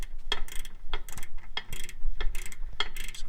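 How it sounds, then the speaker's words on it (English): A ratchet wrench backs a bolt off the rear drum brake of a GM OBS Chevy/GMC truck, giving several quick bursts of rattling clicks at close range with short pauses between strokes. "Just going to get it till it doesn't ratchet anymore."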